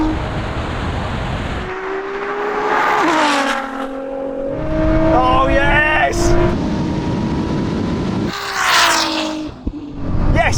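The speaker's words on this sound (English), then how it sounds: "3, 2, 1. It's even better, that launch!" A Ferrari SF90 and a tuned 1000-horsepower Nissan GT-R launch side by side in a drag race, engines rising in loud overlapping revving sweeps with gear changes, while excited voices talk over the roar.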